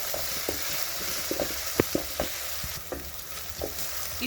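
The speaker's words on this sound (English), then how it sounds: "We are going to add in our ginger garlic paste, then keep stirring so that it doesn't burn." Ginger garlic paste frying with browning onions for pilau, a steady close sizzle under scattered light scrapes and taps of a spoon stirring the pan.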